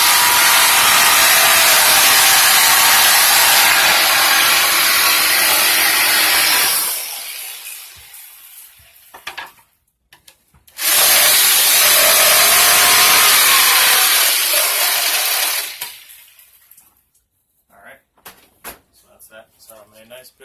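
Workshop tool enlarging a hole in an HDPE plastic part, a loud continuous grinding rasp in two long bursts separated by a short gap, close by, with quiet handling noises afterward.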